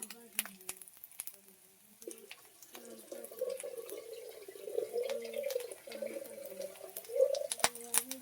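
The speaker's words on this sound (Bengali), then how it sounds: "গরম পানি দিয়ে আমি মাছটা ধুয়েছি," Dried fish being washed with hot water: running tap water and splashing in a sink, with scattered light knocks and drips, moderately close and fairly quiet.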